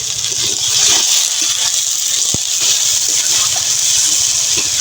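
A little water is poured into frying spice masala for an egg dish, producing a steady close gushing hiss that runs throughout, with a faint clink partway.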